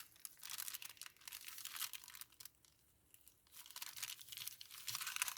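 Paper wrapping on a mail package is torn open slowly in short crinkly rips. The tearing is faint and close, with a brief quiet pause partway through.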